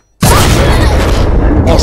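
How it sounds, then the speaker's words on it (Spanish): Bomb blast in the video game Dragon Fin Soup, a sudden loud boom that bursts out of silence and then rumbles on as a heavy, sustained roar with crackling debris, with no letup. "acabo de soltar una bomba"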